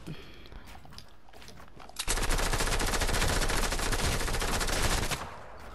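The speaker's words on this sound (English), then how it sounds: "Someone shooting at me, and I don't like it. Oh, minigun." Sustained rapid minigun fire in Fortnite, a dense roaring burst lasting about three seconds after quieter sounds, loud and close.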